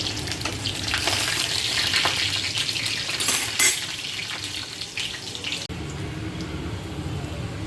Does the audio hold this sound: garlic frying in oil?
yes